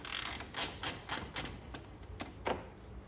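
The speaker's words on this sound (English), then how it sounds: "You're gonna need a ratcheting wrench." Ratcheting wrench clicking while loosening bolts on a Mercedes radiator cooling fan, heard as a series of sharp, close mechanical clicks in irregular bursts with brief pauses between them, no talking.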